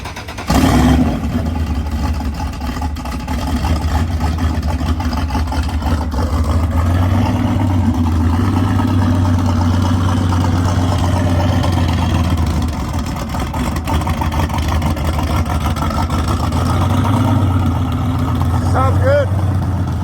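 A drag car's engine runs loud and close for the full stretch, holding a steady rumble with slight swells in revs and a brief dip midway, while voices talk over it.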